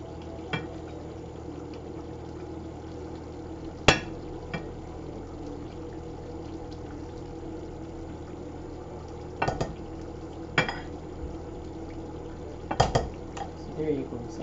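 Rice with peas and chicken curry being dished out in a home kitchen gives a few sharp clinks of a spoon against pots and plates over a low background hum, with quiet scraping near the end.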